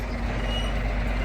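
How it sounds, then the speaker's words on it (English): A big lorry rumbles past close by, a steady low engine drone that holds level throughout with a faint high whine above it, no voices heard. "Big lorry"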